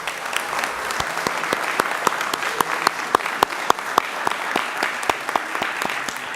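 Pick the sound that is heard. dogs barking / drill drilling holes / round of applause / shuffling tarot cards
round of applause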